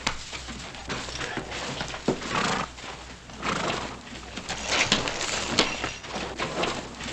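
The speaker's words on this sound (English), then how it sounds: "I'll take care of your horse." In a 1960s Western scene, a horse gives a brief whinny and snorts while its hooves clop and shuffle on the ground nearby, over a steady, noisy outdoor background.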